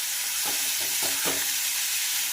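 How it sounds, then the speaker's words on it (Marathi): Capsicum (shimla mirch) sabzi fries dry in a pan with no water, giving a bright continuous sizzle broken by a few scraping stirs near the start, close and steady. "व्यवस्थित फ्राय करायचं आहे आपल्याला पाणी अजिबात वापरायचं नाही आहे इथे"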